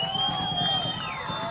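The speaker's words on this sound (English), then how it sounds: "The Fishers crowd feeling it." A home crowd of fans cheers at a girls' high school soccer semi-state match, a steady roar of voices with scattered whoops and a few sustained tones above it.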